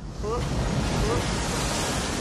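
Water waves rolling in Skyrim with Community Shaders, a steady broadband surf wash that stays loud and continuous throughout, with a couple of faint brief tonal chirps early on.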